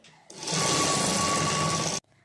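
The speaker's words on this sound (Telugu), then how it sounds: "చూడండి ఇది దీని మీద ఒక కుట్టు వేసుకోవాలి ఇట్లా సపరేట్గా" A sewing machine stitches a blouse back piece in one continuous, steady run of close, loud whirring lasting under two seconds, then stops abruptly.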